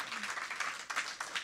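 Church congregation applauding, a steady wash of clapping from many hands, fairly distant and soft, with a voice faintly mixed in.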